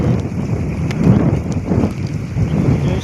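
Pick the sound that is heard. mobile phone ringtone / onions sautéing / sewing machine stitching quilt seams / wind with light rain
wind with light rain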